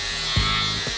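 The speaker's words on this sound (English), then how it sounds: "So carbon steel, same process, removing a weld." An angle grinder fitted with a 36-grit fibre disc on a ribbed backing pad grinds a weld off carbon steel, giving a brief, steady, high, buzzing whine with a short thump partway through.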